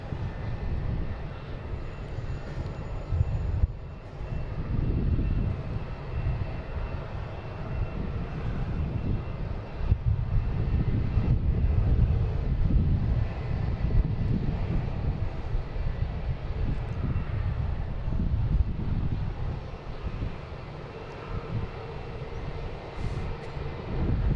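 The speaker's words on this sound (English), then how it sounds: "So here's the American coming in from Phoenix." An American Airlines jet from Phoenix arriving at Boston Logan, a loud low engine roar rising and holding as it passes, with wind rumble throughout.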